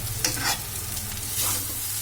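Vermicelli frying in ghee in a pan, giving a steady close sizzle with a few stirring scrapes over two seconds and no talk.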